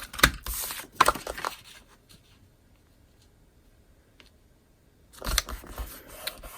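Snail adhesive tape runner dragged across pumpkin-colored cardstock, giving a few close scratchy rasps at the start and again near the end with a quiet gap between, no talking.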